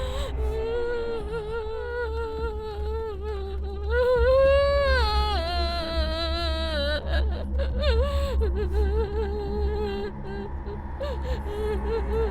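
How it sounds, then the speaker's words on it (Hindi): A woman cries and whimpers in drawn-out, wavering sobs inside a haunted palace, loud and close, with rising and falling wails and shaky breaths throughout. "रोने की आवाज तो सच में आ रही है।"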